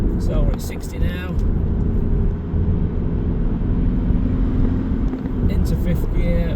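A Seat Leon 1.6 TDI SE Dynamic diesel hatchback with a five-speed manual gearbox and 139k miles pulls onto a dual carriageway, giving a steady, close cabin drone of engine and road noise throughout, with someone talking over it.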